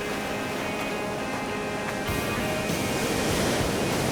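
Steady ocean surf washes over a beach where dangerous conditions have closed the shore, a continuous broadband roar of breaking waves that swells slightly louder in the second half with no one speaking.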